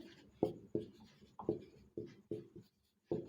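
A marker or chalk scratches across a board during a history lecture, about eight short separate strokes with brief pauses between them, close and fairly quiet, with no talking.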